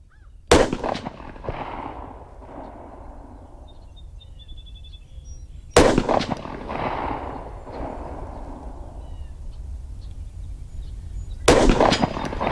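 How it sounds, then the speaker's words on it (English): A Ruger 57 pistol fires three loud, widely spaced shots at 6-inch steel plates 100 yards away on an outdoor range, each crack followed by a long rolling echo, with no talking. "100 yards, 6-inch steel plates, Ruger 57."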